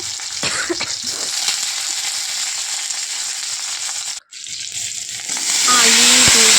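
Chopped onion and green chilli spit and crackle in hot oil with cumin seed tempering, a steady close sizzle for the Bengali puishak, potato and brinjal ghonto, with a brief dip before the frying swells louder near the end.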